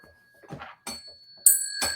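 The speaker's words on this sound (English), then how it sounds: "Ring that victory bell." A small victory bell is rung several times in quick succession. Each bright, close strike leaves a sustained ringing tone, and the last two hits are the loudest.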